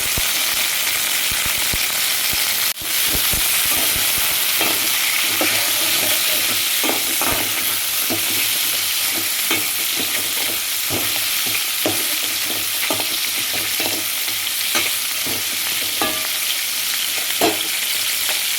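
Ingredients for kola urundai are sautéed in a pan with a steady, close frying sizzle. A sharp clack comes early on, and light stirring scrapes repeat throughout.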